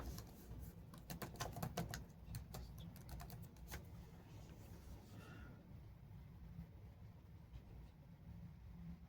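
Quick bursts of keyboard typing, faint and close, give a series of light rapid clicks at the start, then fade into a quiet room hum.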